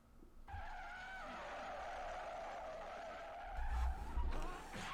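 In an anime, a car skids before a crash, its tires screeching in a long, loud squeal under engine noise, followed by heavier rumbling thumps near the end.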